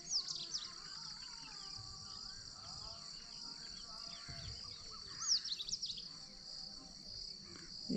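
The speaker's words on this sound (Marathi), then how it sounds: "किलबिलाट इतका सुंदर कानावर पडतोय" Morning birdsong around a rural home, faint scattered chirps and tweets over a steady high insect-like drone, distant and calm with no talk.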